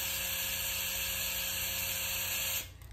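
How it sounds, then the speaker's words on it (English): A FlowPro system actuator whirs in a steady high-pitched electric buzz for over two seconds, then cuts off abruptly near the end, with no voices. "you hear the actuator turning and the lights blinking"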